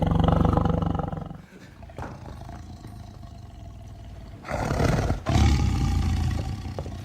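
A tiger roars loudly and close, a deep sustained growling roar that fades, then two more powerful roaring bursts follow near the end, with no speech.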